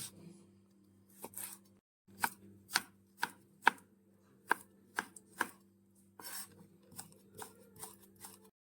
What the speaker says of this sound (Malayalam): നമുക്ക് കോവയ്ക്ക ഒന്ന് ജൂലിയനായിട്ട് കട്ട് ചെയ്തെടുക്കാം